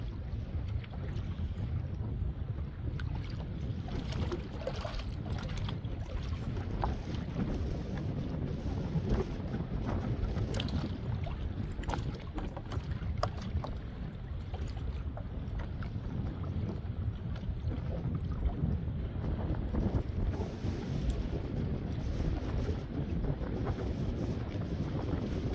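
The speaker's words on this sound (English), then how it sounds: "Now that wind picking up" Wind blows over Lewisville Lake around a Pelican Bass Raider 10E fishing kayak in high winds. A constant, loud rumble of gusts buffets the microphone for the whole stretch, with faint water movement beneath it and no speech.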